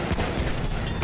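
Dense, rapid gunfire from a video game shooter, a continuous crackling volley of shots at close range with no talk over it.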